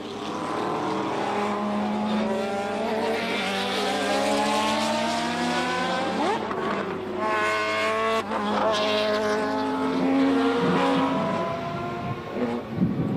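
Group C sports prototype racing cars, including an 800-horsepower car, lapping the tight Donington circuit, with loud engines rising and falling in pitch through gear changes as cars pass close by, sustained throughout with no talk.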